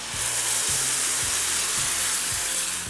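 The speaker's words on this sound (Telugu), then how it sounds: "టమాటాని ఒక 2-3 టమాటాలు మిక్సీ జార్లో వేసేసి మనం దీంట్లో వేసి కుక్ చేసేసుకుందాం" Tomato juice with turmeric cooks in a pan, hissing and sizzling loudly and continuously, with a low repeating rumble beneath the sizzle and no voices.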